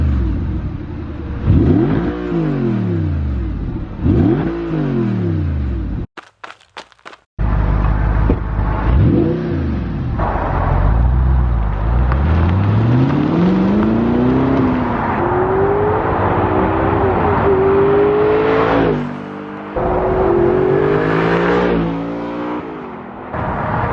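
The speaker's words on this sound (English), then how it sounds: "let's get an exhaust clip" A 2009 Audi R8 with a gated manual gearbox revs its engine through the exhaust in repeated rising and falling sweeps, loud and close, then accelerates away with climbing engine tones.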